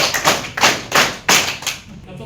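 A group of kids claps in time during a counting game, several sharp rhythmic claps spaced steadily, near and fairly loud.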